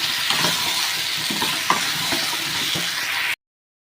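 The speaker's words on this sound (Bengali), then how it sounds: "দিয়ে এটা আমি 10 মিনিট মতন ভালো করে কষিয়ে নেব।" Taro (kochu) pieces coated in chilli and turmeric powder sauté in a hot pan, giving a steady close sizzle with repeated scraping stir strokes throughout and no talk.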